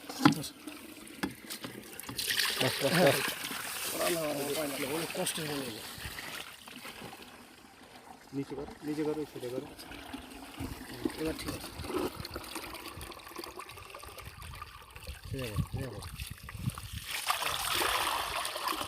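Water trickles and splashes steadily outdoors as it flows into a field, with people talking intermittently over the flow.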